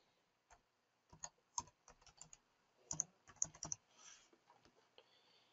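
Password being entered on a computer keyboard while activating Hikvision IP cameras on an NVR: scattered, irregular clicks of keys, quiet and close, in short bursts separated by pauses.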